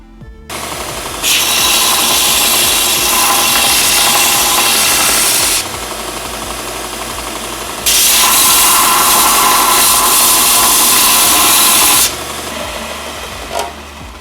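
A 4 x 60 Ickler belt sander with a 60 grit aluminum oxide belt grinds the cut edge of 2.5 by 2.5 inch square steel tubing: a loud, harsh rasping in two long bursts over the machine's steady running hum, with a short pause between them.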